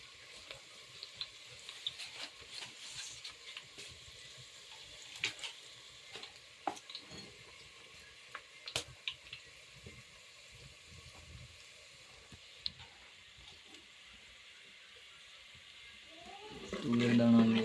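Spices for tempering a green toor dal khichdi sizzle with a soft, steady crackle and scattered pops, then swell louder toward the end as a voice comes in.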